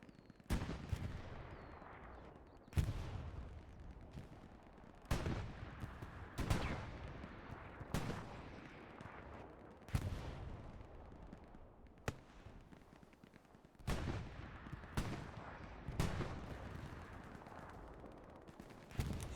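Gunfire in a competitive Hell Let Loose match on the Kharkov map: sharp shots and heavy impacts crack every couple of seconds over a constant rumbling battlefield, with one impact standing out as a rocket ricochet among them, and no talk.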